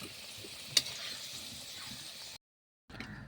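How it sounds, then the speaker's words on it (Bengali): Potatoes frying in oil in a village-style kitchen, a steady soft sizzle with one brief sharp crackle, cutting out for a moment before the frying resumes. "আলুটা আমার লাল লাল করে ভাজা হয়ে গেছে"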